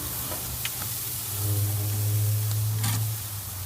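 Freshly flipped burgers sizzle on a Big Green Egg charcoal grill, a steady close hiss over a low rumbling hum that swells slightly midway, with no talking.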